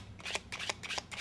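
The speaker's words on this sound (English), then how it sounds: "You are now going to run the top 5 cards" Playing cards being overhand shuffled and run off the deck one by one, several quick, crisp riffling bursts in a brisk rhythm, close and fairly soft.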